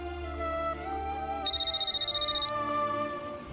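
A phone rings with a steady electronic trill lasting about a second, heard over background music.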